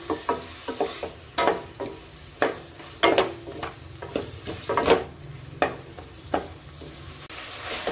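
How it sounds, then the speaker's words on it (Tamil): Tomatoes and ginger fry in a pan for prawn masala, a soft sizzle punctuated by regular scraping and clinking strokes of a spoon stirring against the pan. "இப்போ இதை எல்லாத்தையும் சேர்த்து நல்லா மிக்ஸ் பண்ணுங்க. நல்லா இதை தக்காளி நல்லா வதக்கணும்."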